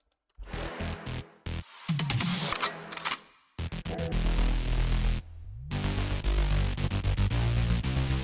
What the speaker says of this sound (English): we have like a weird pattern with the bass here